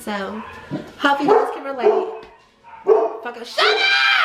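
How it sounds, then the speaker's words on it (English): A pet dog barks and yips in short bursts close to the microphone, overlapping a man's loud speech and an angry shout. "Sorry guys, that's my dog."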